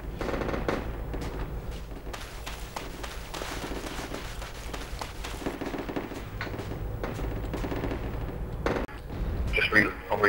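Gunfire in the tactical shooter Project Reality with a US Army APC, a dense continuous clatter of shots and booms that runs the whole time, with voices talking over it.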